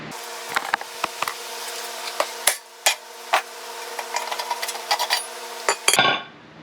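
Repeated sharp metal hammer strikes knocking a rear brake rotor off a 2006 Mazda during a suspension rebuild, loud and close, irregular blows over a steady background hum.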